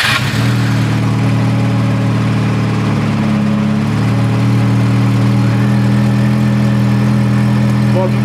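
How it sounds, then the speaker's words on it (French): A Lada 2172 car engine, low on battery charge, starts and settles into a loud, steady idle heard up close, its droning tone continuing without a break. "je vais la démarrer parce qu'il n'y a plus beaucoup de batterie"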